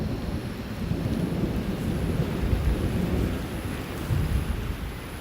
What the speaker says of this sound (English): At the peak of the rainy season, the storms are now more than most animals might care to see.